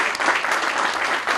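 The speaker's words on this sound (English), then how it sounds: "If we can give Aubrey Thager a round of applause." Short burst of steady applause from an outdoor crowd at a new Safeway groundbreaking ceremony, dense continuous clapping at moderate loudness with no talk over it.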